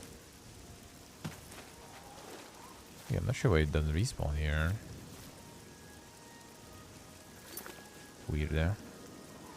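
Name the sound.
rain in the video game The Elder Scrolls IV: Oblivion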